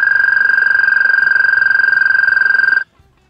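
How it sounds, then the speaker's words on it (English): An American toad gives a long, steady high trill, a continuous pulsing musical call held for nearly three seconds, loud and close, then stopping abruptly into silence. "Or even an American toad that sounds like this."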